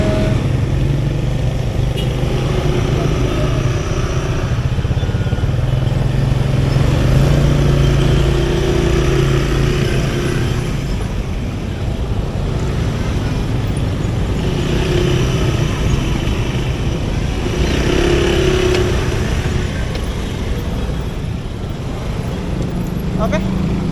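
Congested road traffic with cars and motorcycles idling and creeping along, a steady engine rumble with passing vehicles rising and fading, while people talk over the top throughout.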